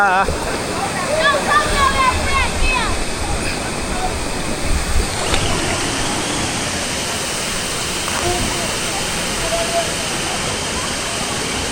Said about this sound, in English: We are go at top of the waterfalls.